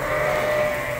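Dorset sheep bleat in a steady, fairly loud chorus during sorting at breeding season, the overlapping calls sounding close and continuous with no talk over them.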